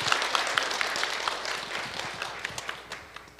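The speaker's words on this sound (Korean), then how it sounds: "먼저 하나님 앞에 영광의 박수를 올려드릴까요?" A church congregation at a New Year blessing revival service claps together in a dense, continuous round of applause, the many hand claps blending into a steady patter at moderate distance.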